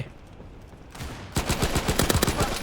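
Rapid bursts of automatic gunfire in a World War II video game erupt after a quieter, noisy stretch, loud and close, continuing as a rattling stream of shots.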